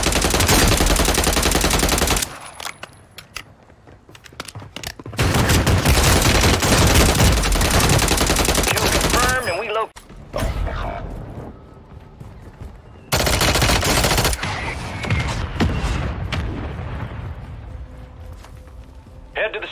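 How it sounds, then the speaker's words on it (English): Heavy machine gun fire in Call of Duty Warzone 2 roars in long, loud sustained bursts separated by short quieter gaps, with in-game voice callouts heard between the volleys. "Taking effective fire!"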